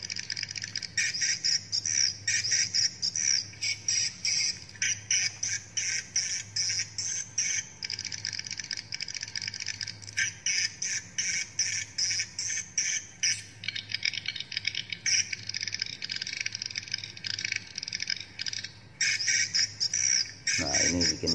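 Swiftlet calls played from a lure recording: a dense, continuous wash of high chirps and twittering lasting the whole stretch, loud and steady like a large flock, with no talking.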